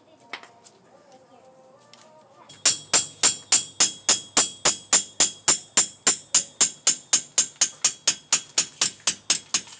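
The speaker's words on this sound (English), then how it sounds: "Did the same thing with the hammer." Repeated hammer blows on rusted wheel bearing bolts of a 2008 Impala, about thirty sharp metallic strikes in a steady, fast rhythm after a quieter stretch with faint voice and clatter, loud and close.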